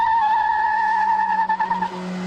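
A car pushed hard around the Top Gear test track, steady engine drone with a high sustained tire squeal through a corner, close and loud, no talking.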